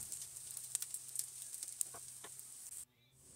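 Bread snacks sizzle and fry quietly in a pan on a gas stove, a soft continuous crackle with scattered pops before it drops away near the end.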